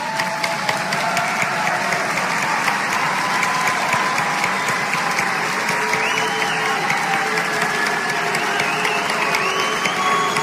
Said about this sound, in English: graduates, please stand up and applaud your families, your faculty, the staff, and all of Boise State